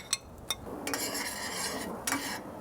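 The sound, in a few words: stirring garlic in butter in a pan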